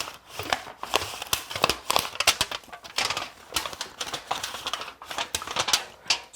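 A thin aluminum can sheet is bent flat against a table edge, giving close, quiet, rapid crinkling and tapping clicks in an irregular stream.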